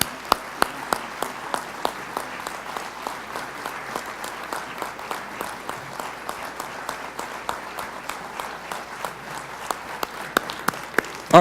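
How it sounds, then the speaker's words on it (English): A university town hall crowd gives a long standing ovation, sustained dense applause from a large room with sharp individual claps and a few whistles popping out over the steady roar. "of applause."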